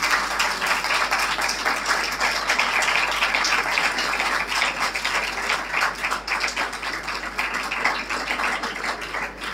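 Congregation in a Baptist church in Harappa, Pakistan, applauding to welcome a newcomer, a dense, steady wash of many hands clapping at close range that fills the whole stretch with no talk.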